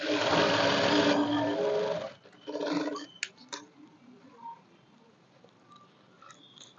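A sewing machine runs a loud, fast stitching burst on a blouse piece, stops, then gives a shorter run followed by a few clicks and small handling ticks, close by and without speech.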